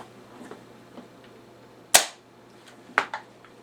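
An airsoft bolt-action sniper rifle fires two sharp, close snaps about a second apart, each followed by a brief rattle, over a faint steady hum.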